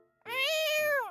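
A cat in the video game Genshin Impact gives a single clear, drawn-out meow, close and alone with no talking over it.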